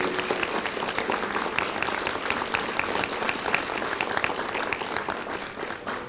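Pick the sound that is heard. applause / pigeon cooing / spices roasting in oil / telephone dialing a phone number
applause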